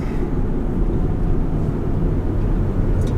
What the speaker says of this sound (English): really the only noise you hear is the noise of the tires on the road.